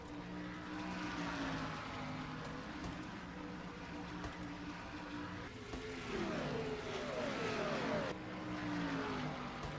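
Race cars roar around Richmond in a racing video game, a continuous dense engine drone with rising and falling pitch sweeps as cars pass, loud and steady throughout with no clear gaps.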